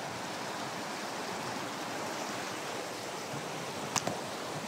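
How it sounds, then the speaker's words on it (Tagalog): A large river flows in a steady, broad rush of water that fills the air without letup, loud and constant, with a couple of faint clicks near the end. "Napakalaking ilog to guys."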